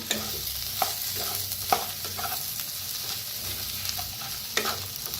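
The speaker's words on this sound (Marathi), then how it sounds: "आता मिक्स करून घेऊया" A pan of vegetables with sugar, salt and coriander is stirred over a steady low sizzle, the spoon scraping at irregular intervals with a few sharper clinks.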